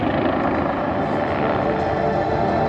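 Bo 105 helicopter flying at the Airpower air show in Zeltweg, its hingeless main rotor giving a steady, dense rotor and engine roar that holds loud and unbroken throughout.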